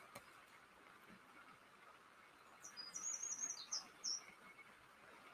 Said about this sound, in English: We have the birds out in the forest.